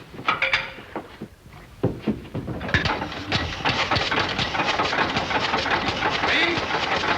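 An engine sputters with a few uneven bursts, then catches and settles into a steady, continuous rumble that keeps running to the end.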